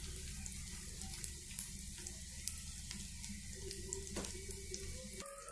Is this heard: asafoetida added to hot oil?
yes